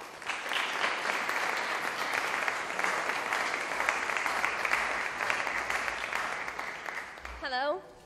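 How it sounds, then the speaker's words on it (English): Audience applause at a game design conference, a dense steady clapping from a crowd lasting about seven seconds and swelling slightly before a brief whistle-like sound near the end. "So give a round of applause to Elizabeth Simoens."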